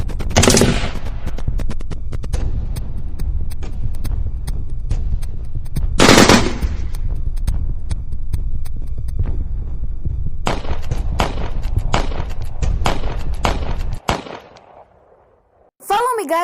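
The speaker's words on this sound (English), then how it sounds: "She shot him!" Rapid bursts of staged gunfire in a school radio drama, loud cracks and volleys running almost continuously, with a sharp burst near the start and another mid-clip, then a brief quiet gap before a final hit.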